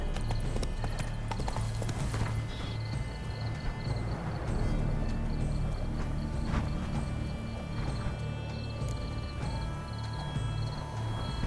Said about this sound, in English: Better off on horseback.